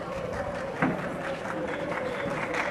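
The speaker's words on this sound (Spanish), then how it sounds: "Un aplauso para la nena." Applause for a girl at a community race event, a brief patter of clapping from a small outdoor crowd mixed with background voices and chatter.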